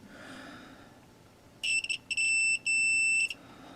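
A multimeter's continuity beep sounds while testing house wire in the charging system of a 1972 Chevy C10 pickup: a loud, steady electronic tone in a few short bursts, then one longer sustained beep, over a quiet background.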